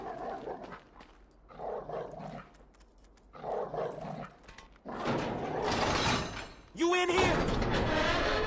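Chop the dog barks in GTA 5 in a run of loud, evenly spaced barks, followed by a burst of noisy commotion with someone shouting over it.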